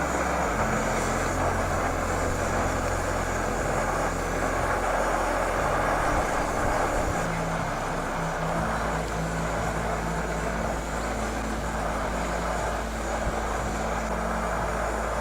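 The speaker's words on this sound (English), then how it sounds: "The Jetboil is also the loudest. Sounds like a jet." A Jetboil camping stove burner roars loudly and continuously at close range, a steady jet-like rush that never lets up, with no talking.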